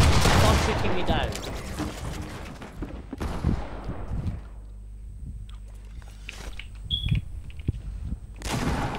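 Gunfire in the Fortnite video game, a loud burst of rapid shots at the start, then sparser scattered shots and game sounds with a further burst at the end.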